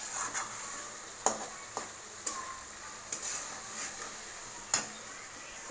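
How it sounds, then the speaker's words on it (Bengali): Meat being stirred with mustard in a pan, a quiet sizzle underneath with a spoon scraping and knocking against the pan at irregular intervals, close and fairly soft. "এবার দেখো একটু সর্ষে এটা নেড়ে নিচ্ছি"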